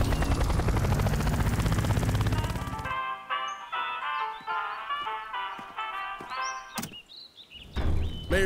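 A cartoon helicopter's rotor thumps loudly and steadily for a few seconds, then cuts away to quieter, scattered sounds.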